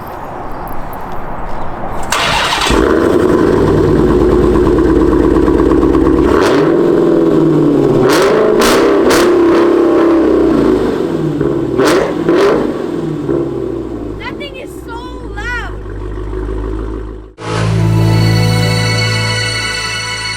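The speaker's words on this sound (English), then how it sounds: "Now let's go and give a cold start on it." A Dodge Challenger Hellcat Redeye, 794 horsepower, cold-starts with a sharp crank and loud bark, then settles into a heavy, raised idle with a few throttle blips before cutting out abruptly and restarting.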